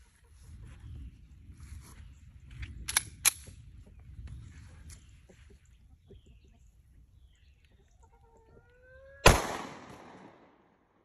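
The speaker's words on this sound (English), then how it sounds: "We're gonna send another shot from the 40 cal down there." A single .40 caliber gunshot fired at a paper target cracks out sharply and loudly, followed by a short echoing decay after a stretch of quiet rustling.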